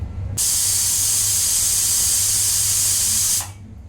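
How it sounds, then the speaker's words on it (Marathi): A single loud, sustained hissing whistle from a pressure cooker cooking pav bhaji vegetables, starting abruptly and cutting off after about three seconds. "कुकरच्या 4 शिट्ट्या झाल्या"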